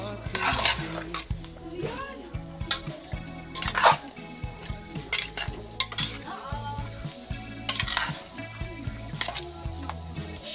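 Cassava cooking in caramelizing coconut milk and sugar in a pot, stirred with a metal spoon that clanks and scrapes against the pot in irregular bursts over a low bubbling background, close up.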